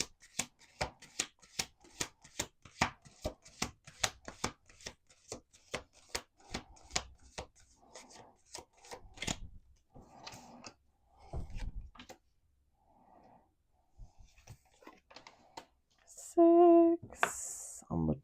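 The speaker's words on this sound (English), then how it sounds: "All right, 2 more shuffles. Let's do 2 more shuffles." Playing cards shuffled at a table, a quick run of sharp riffling clicks over the first several seconds, then softer handling and occasional voices talking nearby.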